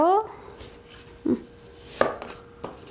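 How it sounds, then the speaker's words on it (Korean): A knife dices an apple into cubes on a cutting board during vegetarian salad prep, giving a few distinct, close chopping knocks with pauses between them. "사과도 단호박과 같이 깍둑 썰기를 해주시면 되겠어요"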